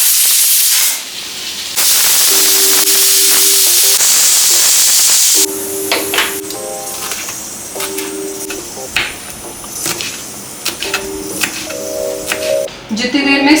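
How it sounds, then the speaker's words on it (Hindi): Steam hisses loudly from a pressure cooker of khichdi in long bursts, followed by quieter kitchen clatter and sporadic voice sounds. "जितनी देर में स्टीम निकल रही थी कुकर से"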